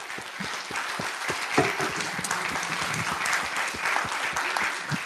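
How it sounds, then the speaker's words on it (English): An audience applauds at the inauguration of a new 40-centimetre telescope for a free public observatory, steady dense clapping filling the room throughout, with a faint voice underneath. "maybe make an applause for this"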